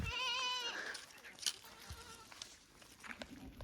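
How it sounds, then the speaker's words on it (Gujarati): A goat gives one loud, close bleat at the start, then faint rustles and distant voices continue outdoors. "બકરા જોઈ લ્યો"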